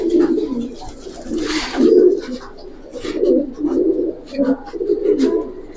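Giribaz pigeons of the Palla line coo repeatedly in soft, throaty pulses, close and continuous, with occasional faint rustles between the calls.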